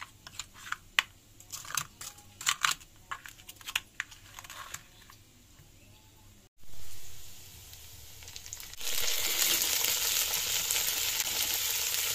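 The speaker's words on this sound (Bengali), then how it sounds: "এখানে আলু আর কিমা আর মটর, আগে এগুলো কিছু ভাজা করে নিচ্ছি" Potatoes, minced meat and peas frying in a pan, first with a run of scattered clicks and scrapes from stirring, then a steady, fairly loud sizzle that fills the second half.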